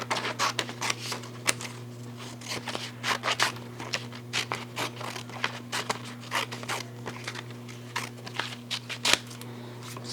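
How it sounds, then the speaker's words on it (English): Scissors snip and trim sublimation fabric pieces for a baby blanket in a steady run of quick, dry cuts, close up over a constant low hum, with no talking. "I'm gonna go ahead and trim these other pieces down so we can fill it in."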